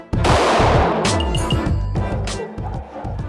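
A single loud gunshot at an indoor shooting club range, with a sharp, close blast followed by a long, ringing decay and faint clinks as the echo fades.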